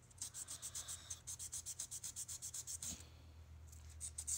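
Nail file rasping on a fingernail in rapid rhythmic strokes, about twenty close, steady scrapes with a brief pause, alone over low background hum.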